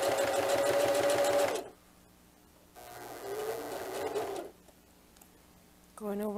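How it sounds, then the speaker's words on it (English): A home sewing machine stitches slowly over a very thick seam while sewing a diaper bag tote, running in two loud bursts separated by a pause, followed by a short faint whirr at the end. "Going over my first seam, and that needs to go very slow because it gets very, very thick."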